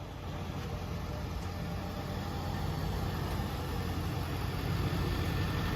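A freshly painted mini truck idles steadily nearby, giving a faint, even low rumble with no change in pace throughout.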